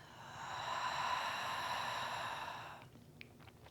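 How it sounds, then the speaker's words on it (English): A full, deep open-mouth exhale during a vinyasa yoga class, one long breathy sigh lasting nearly three seconds, close and fading out to quiet room noise. "And full, complete breath out."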